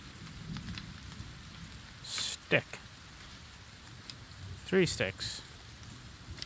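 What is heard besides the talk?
rain falling in the video game The Forest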